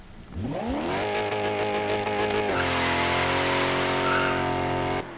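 A car launches from a standstill in Forza Horizon 3. The engine revs hard, climbing steeply in pitch through the first gear, then holds a loud, sustained high-revving roar with a shift near 2.5 s before cutting off abruptly.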